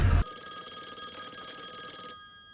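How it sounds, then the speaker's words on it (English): A telephone rings in a TV drama episode, its bright trilling bell sustained for about two seconds at moderate loudness, then stops and leaves quiet background. "The phone is ringing."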